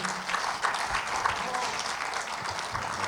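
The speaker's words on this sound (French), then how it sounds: "on peut les remercier, les applaudir." Steady applause from an indoor audience, clapping densely and evenly for a few seconds, fairly close with a light crowd murmur.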